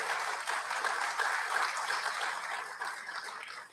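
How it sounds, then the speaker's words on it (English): A crowd claps steadily for a few seconds, a dense wash of applause that slowly tapers off. "Give those guys one more round of applause"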